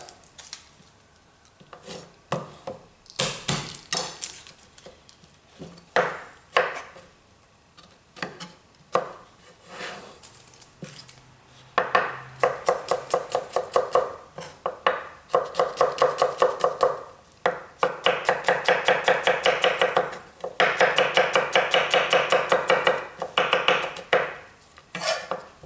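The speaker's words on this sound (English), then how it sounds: "a couple of cloves of garlic. Just want to roughly chop this." Knife roughly chopping a couple of garlic cloves on a board, rapid dense runs of sharp close taps with brief pauses between bursts, getting busier and louder in the second half.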